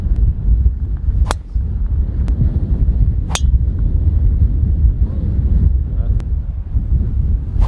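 Strong, steady wind roars across an open links golf course on the Irish coast, buffeting the microphone with a constant low rumble, broken by a few sharp gusty cracks.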